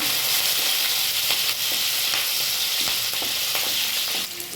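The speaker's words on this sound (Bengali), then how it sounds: "এগুলো আগে একটু ভাজা ভাজা করে নেব।" Cumin, chopped garlic, ginger and green chili frying in hot oil, a steady dense sizzle with occasional stirring clicks, close and alone without talk.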